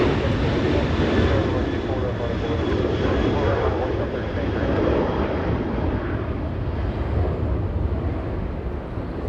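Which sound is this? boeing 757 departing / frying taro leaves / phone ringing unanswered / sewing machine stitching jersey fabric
boeing 757 departing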